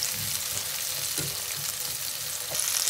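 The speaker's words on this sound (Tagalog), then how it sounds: "Tinitiis kong lahat ng mga sakit dito sa magsitalsitang mantika." Onion and garlic frying in hot, splattering cooking oil for a Filipino chicken dish, a dense, steady sizzle with faint pops and stirring, close and constant, with no talk.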